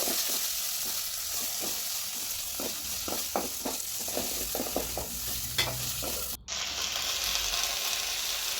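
Spices tempering in hot oil in a pan for an amaranth curry, with chopped coriander stirred in: steady close sizzle with repeated scraping stirs, one brief dropout midway, no talk.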